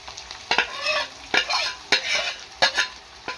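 Ginger, cumin and chili paste fry in oil in a pan, stirred in repeated rhythmic scraping strokes over a moderate sizzle.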